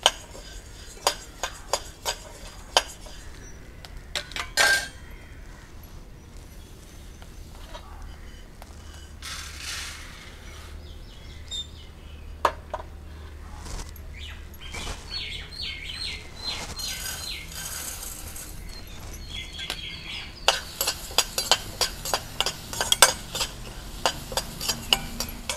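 Black kavuni rice dry-roasting in a pan, with irregular bursts of scraping and rattling as the grains are stirred and tossed over a low, steady background, close and moderately loud without voices.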